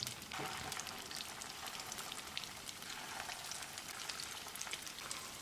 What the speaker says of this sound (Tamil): இப்போ இதை எண்ணெயில் பொரிச்சுக்கலாம்.